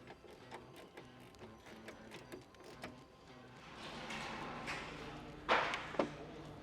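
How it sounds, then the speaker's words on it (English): Bolts are tightened on an oil cooler bracket of a 200 Series Toyota LandCruiser with a quick run of close, crisp ratchet clicks, then a few louder metallic clunks and scrapes. "Now they're all started, we can tighten them up."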